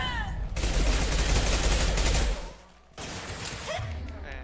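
Rifle fire in the sci-fi shooter game Mass Effect 2 comes as a loud, dense burst of rapid shots over about two seconds, then a short lull, then more sustained fire with a faint voice underneath.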